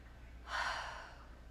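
A single audible breath, a soft airy inhale or exhale lasting about half a second, taken during a standing yoga hip pose in a quiet room.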